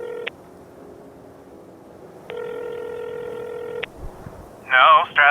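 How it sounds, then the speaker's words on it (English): Electronic touch-tone beeps sound as a number is dialed on a mobile phone: one short tone, a pause, then a long steady tone followed by a quick burst of tones, all close and clear over a faint background hum. "I double-check the number Strathcona put into my phone and call."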